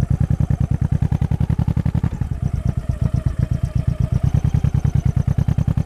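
A Honda VT 1100 Shadow motorcycle's V-twin engine thumps steadily while riding, a loud, close, evenly pulsing beat that keeps a regular rhythm throughout without any talk.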